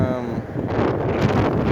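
Strong wind buffets the microphone in a loud, continuous rumble and rush, along a Boston bike lane.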